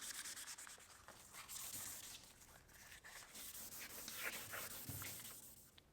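A hydraulic cylinder rod from a 1995 Gehl skid steer is sanded with 220-grit paper, giving steady close rasping strokes that run without a break for the whole stretch, with no talking.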